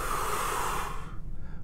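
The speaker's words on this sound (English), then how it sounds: "Breathing in, breathing out." A person breathing heavily in and out during a band pull exercise, a close, airy rush of breath that fades toward the end, with no talking.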